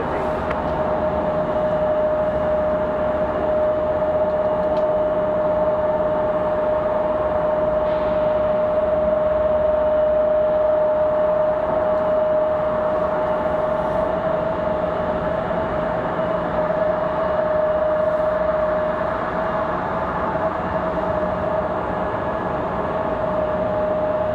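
An American Airlines jet takes off from runway 5 left at Raleigh-Durham with a loud, sustained engine roar and a steady whine that hold for the whole stretch, with no talk.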